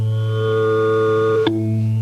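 A complex synthesized tone played on a Fairlight synthesizer, a steady harmonic-rich sustained note that briefly shifts partway with a quick click before settling into a new held timbre, alone and clear.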